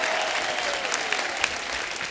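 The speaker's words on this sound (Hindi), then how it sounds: "बड़ो जोरदार तालियां हो जाए।" Loud, sustained applause from a television comedy show's studio audience, dense clapping filling the whole stretch with no talk over it.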